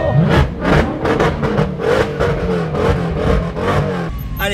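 A Mercedes C63 roars around a race circuit, its engine loud and close with repeated rising and falling revs as it accelerates and shifts, with no talk over it.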